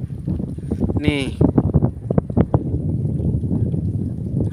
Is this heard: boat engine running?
yes